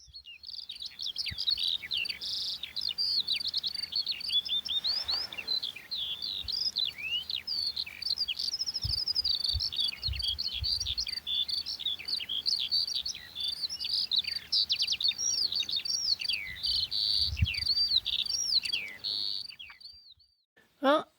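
Continuous high, warbling song of skylarks pours on for the whole stretch, steady and fairly close, with faint low rumbles underneath, on a mountain trail in the Beskids near Komańcza, Poland.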